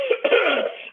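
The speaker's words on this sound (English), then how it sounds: "Come back from Florida and cough your guts out." A man's harsh cough, attributed to bad allergies, bursts out twice in quick succession and then trails into a rough, sustained throat-clearing rasp, close and loud with no talk.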